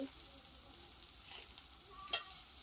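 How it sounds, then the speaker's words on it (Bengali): Round slices of bitter gourd and potato fry in a pan with a soft, faint sizzle, and one brief sharper crackle or scrape near the end. "আজ তোমাদের বৌদি ভাই তোমাদেরকে গোল গোল চাকা চাকা করে উচ্ছে আলু ভাজা করে দেখাচ্ছে"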